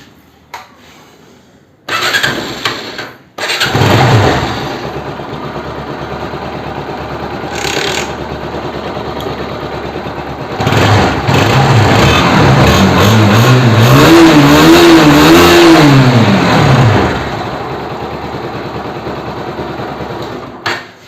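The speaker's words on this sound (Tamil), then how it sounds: "டைட் பண்ணிட்டு வண்டியை ஸ்டார்ட் பண்ணி பார்ப்போம்," A motorcycle engine catches after a short crank following an engine flush, then idles loudly and revs up and down in several rising and falling surges before settling, recorded close by.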